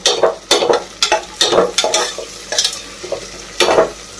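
Ginger and garlic frying in oil in a pan for vegetable biryani, a close hiss punctuated by regular spoon strokes scraping the pan about every half second.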